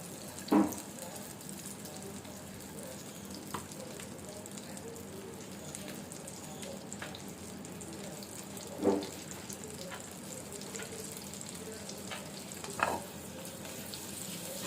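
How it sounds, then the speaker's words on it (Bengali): Chopped garlic sizzles gently in butter with a little oil, a soft continuous frying hiss at low level, broken by a few sharp clinks of a utensil against the pan. "যখন ফ্লেভার বের হবে বাটার থেকে গার্লিক ভেজে"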